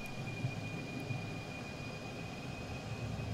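An F-4 Phantom II jet in Microsoft Flight Simulator slows into the landing circuit, a steady, even engine roar with a thin whining tone held throughout.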